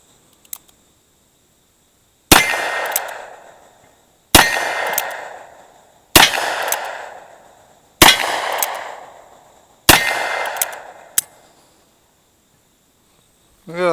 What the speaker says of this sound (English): Maybe I can get a couple of shots off using cowboy 45 specials over the 160 grain bullets.